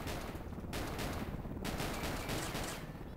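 Enemy gunfire in the E.E.R.I.E video game comes as a continuous, muffled, dense rattle of rapid shots that fills the whole stretch at moderate loudness, without talk.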